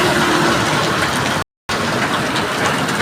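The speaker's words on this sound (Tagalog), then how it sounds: "Lakas ang ulan." Heavy rain pours down in a dense, steady roar, briefly cut off by a short moment of silence before resuming just as loud.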